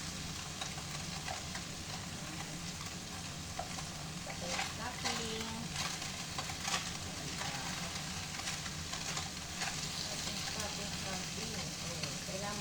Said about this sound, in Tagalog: kailangan ma-toasted natin ating tofu